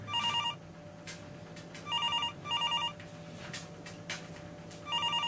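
A phone rings on an unanswered call, four electronic ringtone bursts spaced about a second apart, fairly loud over a low hum with no talking.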